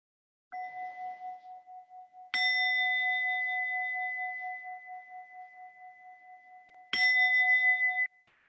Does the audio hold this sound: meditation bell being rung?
yes